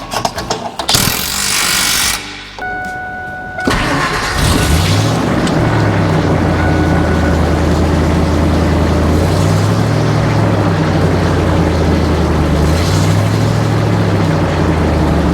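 A 1999 Ford F250 truck engine with a glasspack muffler starts with a rough burst, then settles into a steady, throaty idle with a deep rumble that rises and falls slightly.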